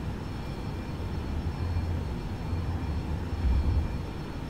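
A Boeing 737-800 in the X-Plane 11 flight simulator climbs out after takeoff, its jet engines giving a steady low rumbling roar that swells slightly toward the end, with no voices.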